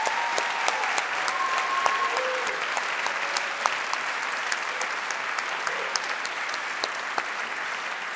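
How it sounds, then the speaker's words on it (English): Concert audience in Victoria Hall, Geneva, applauding performers with sustained, dense clapping throughout, steady and fairly loud, with a few brief tonal notes sounding faintly underneath. "Let's give them another round of applause,"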